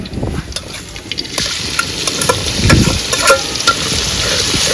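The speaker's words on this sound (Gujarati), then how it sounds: "તો ફેમિલી આપણે તેલ મૂકી દઈશું ને પહેલાં આપણે લસણ નાખી દઈએ." Garlic frying in hot oil, crackling and sizzling loudly up close with irregular pops and spatters throughout, no one talking.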